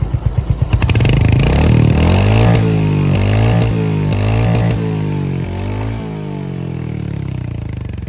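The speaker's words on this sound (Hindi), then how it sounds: "आप एक बार इंजन का एग्जॉस्ट साउंड आप नोट डाउन कीजिए" A Royal Enfield Hunter 350 motorcycle starts after a few cranking pulses, then revs up and down several times in a loud, close thumping exhaust before settling to a steady idle.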